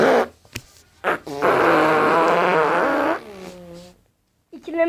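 A fart sound effect played back from a device, one sustained buzzy blast lasting about two seconds followed by a shorter trailing one, loud and close, with brief noises before and after.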